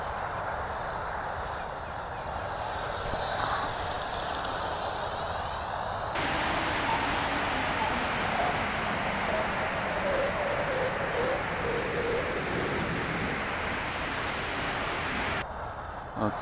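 A Freewing F-104 RC model jet with a 90mm electric ducted fan makes a low pass, a steady loud rushing whine that swells and stays strong for most of the stretch, heard outdoors without talk.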